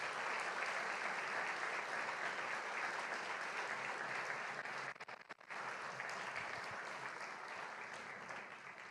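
Church audience applause during a worship service, loud dense clapping sustained across the whole stretch with a brief dip midway before easing off slightly.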